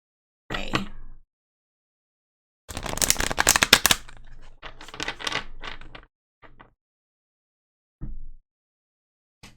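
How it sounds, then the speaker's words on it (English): A tarot deck, the Akashic Tarot, is shuffled in close, crisp bursts of riffling and flicking cards, separated by silent pauses, with a few short taps and slaps between them. "go ahead and shuffle these."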